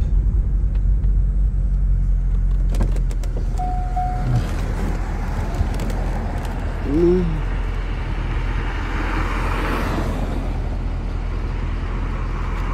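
A car, likely a Corvette, creeps slowly up ramps onto a pickup truck trailer in the USA with a low steady engine rumble and a few metallic knocks, close by, while someone talks briefly.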